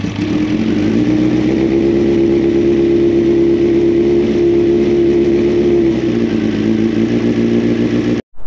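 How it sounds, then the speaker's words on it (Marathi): A 1996 Kawasaki ZX9R Ninja motorcycle engine idling steadily and loudly close by after a cold start, with a low, even drone that dips slightly in pitch toward the end before cutting off abruptly. "आता फक्त बाईकचा कोल्ड स्टार्ट करायचा आणि मग जायला रेडी."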